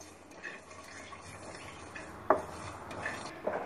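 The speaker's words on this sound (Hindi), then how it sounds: "इनको हमने अच्छे से मिला मिला के रोस्ट करना है" Spoon scraping and stirring pickle vegetables (cauliflower, carrot) and spices roasting in a pan over low gas, soft irregular scrapes and light clinks close by, quiet with a couple of sharper taps.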